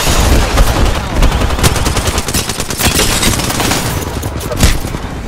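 Dense, loud gunfire in the video game Apex Legends rattles on as continuous rapid bursts from start to finish, with no pauses and no talking.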